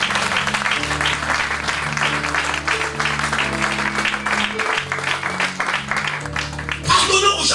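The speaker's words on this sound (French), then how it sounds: "Est-ce qu'on peut acclamer le Seigneur?" A church congregation applauds and acclaims the Lord, a steady wash of clapping with cheering voices and a held musical drone beneath, swelling louder at the end.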